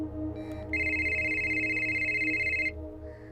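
A single sustained electronic phone tone sounds for about two seconds over a low background hum, close and fairly loud, with no voices.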